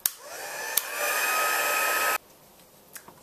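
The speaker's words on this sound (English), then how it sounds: "once you've got the embossing powder, you're going to heat it with our heat tool" A heat tool blows steadily to melt embossing powder, a loud, even whir that runs for about two seconds before cutting off, with a couple of small clicks before and after.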